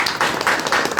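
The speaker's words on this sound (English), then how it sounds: "Can we have a huge round of applause?" An audience at a finance experts event in a coworking space claps in a loud, dense burst of applause that fills the short moment, with irregular surges.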